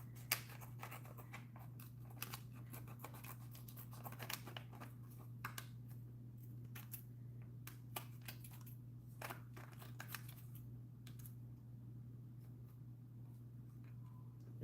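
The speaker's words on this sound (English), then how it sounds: "We're gonna continue to cut all of the excess vinyl" Scissors cut excess vinyl in a quiet room, giving scattered, faint snips and crinkles over a steady low electrical hum.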